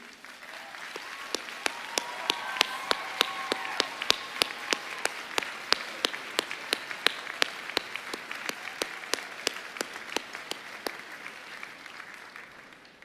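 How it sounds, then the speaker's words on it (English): Guests at a spring university law school commencement ceremony applaud in a large hall: a steady wash of many hands clapping, with crisp individual claps standing out, sustained for over ten seconds. "Will the guests now please stand and we will applaud you."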